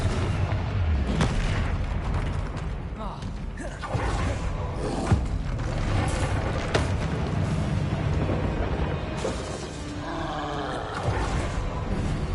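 Spell blasts in Hogwarts Legacy, with loud booming explosive Confringo impacts, creaks and roaring effects filling a dense, continuous battle mix with no speech.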